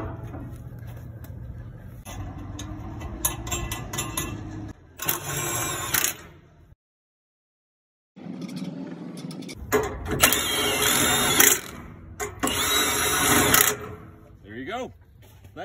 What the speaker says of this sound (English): All you will need is a 13/16 socket with an impact.